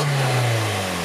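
A Mazda Miata engine gives a short, close rev with a steady low drone and a raspy exhaust edge from the pipe after the muffler.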